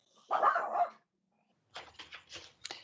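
Dog barking at a planning commission meeting, one short bark and then a quick run of smaller yips after a pause, fairly faint and alone.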